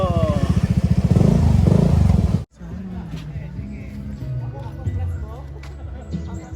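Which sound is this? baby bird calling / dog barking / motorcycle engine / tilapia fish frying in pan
motorcycle engine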